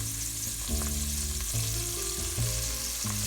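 Asparagus frying in oil in a pan gives a steady, even sizzle with faint crackles, while low tonal hum and occasional clinks sit underneath, and no one speaks.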